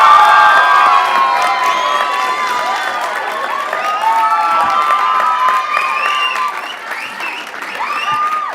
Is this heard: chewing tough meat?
no